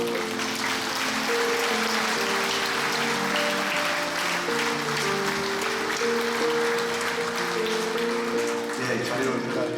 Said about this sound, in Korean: 뜨거운 박수를 보내주시면 됩니다.